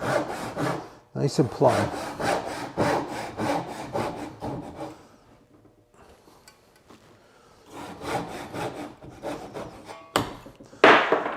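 A hand saw cuts through wood for a large through mortise and tenon joint, in quick rasping strokes that pause midway and then resume, with a brief spoken remark between.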